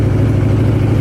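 Aprilia Tuono motorcycle engine idling in neutral, a steady low, throbbing burble held close and even throughout, with no voices over it.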